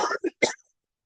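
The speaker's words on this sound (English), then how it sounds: "I'm going to cough again. I can feel it coming on." A man coughs three times in quick, dry bursts close to the microphone, followed by silence.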